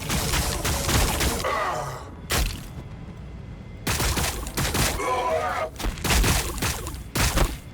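Gunfire from Warhammer 40,000: Battlesector, a Tyranid campaign battle, comes in dense bursts and volleys broken by short lulls, loud and close, with no talk over it.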